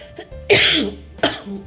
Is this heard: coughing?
yes